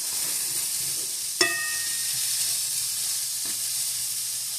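Tofu fried rice sizzles in a pan with a steady, even hiss throughout, broken once by a single sharp metallic clink of a utensil.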